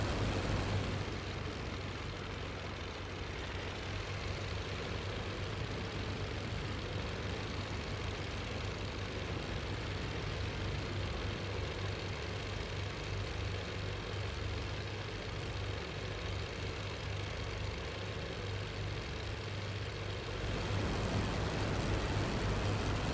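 Halberstadt D.II biplane engine droning in flight in Rise of Flight, a steady low rumbling hum that holds constant, with a slight tonal change near the end.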